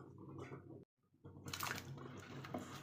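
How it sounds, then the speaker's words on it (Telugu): Cut cauliflower pieces being washed by hand in hot water, with splashing and sloshing water that drops out briefly near the middle, then returns louder and fuller. "ఇలా కట్ చేసుకున్న క్యాలీఫ్లవర్ ముక్కల్ని కొన్ని వేడి వాటర్లో ఫస్ట్ శుభ్రంగా కడుక్కోవాలి"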